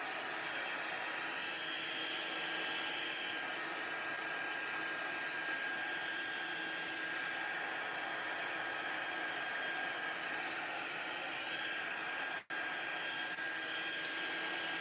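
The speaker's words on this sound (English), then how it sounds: "The heat tool is so hot that it does dry very quickly." Steady, loud rush of hot air from a heat embossing tool runs without a break for the whole stretch, a constant broadband blowing hiss with only a momentary dropout near the end.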